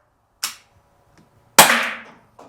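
Umarex T4E TR50 .50 caliber paintball revolver fired outdoors: two sharp, loud, cracking shots about a second apart, the second ringing out longer, with another shot just starting at the end.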